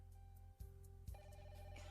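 A telephone rings in a steady electronic tone, with a couple of bursts close by, quiet and alone without talk.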